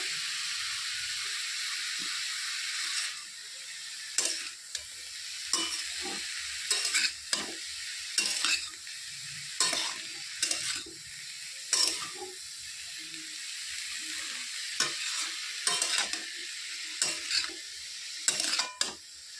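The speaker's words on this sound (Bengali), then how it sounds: "ভালো করে একটু নেড়ে চেড়ে দিচ্ছি তখন আমি এটাকে ঢেকে রাখবো" Cabbage filling seasoned with salt and turmeric is stirred in a frying pan over medium gas, giving a soft steady sizzle with intermittent scraping, clattering strokes of the utensil against the pan, close and moderately quiet.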